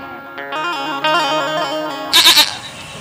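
A goat bleats several times in a quavering, harmonic cry beside a farm animal pen, followed by a louder, brighter burst of noise near the end.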